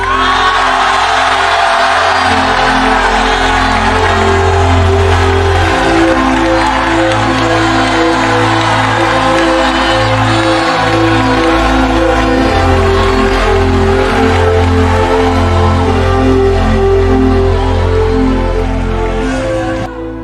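A church congregation shouting and cheering loudly and without a break over a steady musical drone, with whoops and calls rising and falling throughout a packed worship service.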